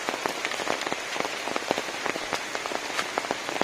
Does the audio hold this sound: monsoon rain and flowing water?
yes